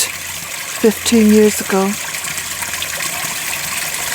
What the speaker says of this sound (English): this water flows from here down through the 2 ponds that I had dug out